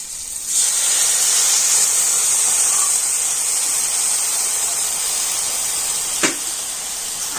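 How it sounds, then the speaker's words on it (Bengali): Spice paste goes into a hot pan of softened tomatoes and sizzles in a loud, steady hiss that holds for several seconds, broken by a single metallic clank near the end. "মশলার পেস্টটা আমি এখন দিয়ে দিচ্ছি"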